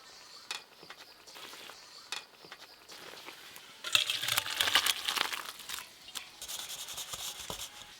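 Fish sour curry scraped and poured from a cooking pan, with soft rubbing and metallic scraping that grows busier and louder partway through.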